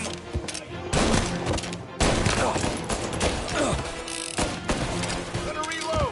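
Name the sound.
gunfire in Mafia Definitive Edition video game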